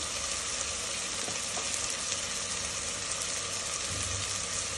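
Turmeric and cumin powder fry in hot oil for an Andhra style prawn biryani, giving a loud, close, unbroken sizzle with a constant dense hiss and no talking.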